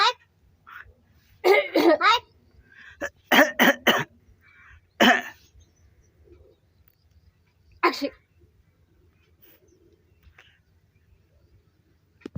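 A crow imitating a cough makes a few short, rough coughs in scattered bursts, separated by long quiet gaps, close by.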